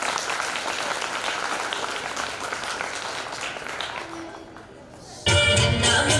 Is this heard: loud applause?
yes